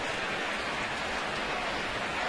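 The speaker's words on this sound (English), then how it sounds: "Little light rain continues to fall." Light rain falls steadily over a baseball game, a soft, even hiss of drops that holds unchanged throughout with no voices.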